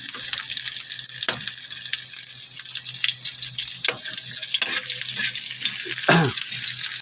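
Garlic fried rice with onions frying in a pan, a steady crackling sizzle with scattered scraping clinks from stirring, no speech.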